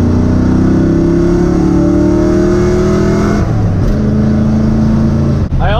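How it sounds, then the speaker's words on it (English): A 1971 Ford F100 truck with side pipe exhaust revs loudly and up close, its deep engine note climbing steadily in pitch, dipping briefly, then rising again with a sharp burst near the end. "Side pipe sounds so good."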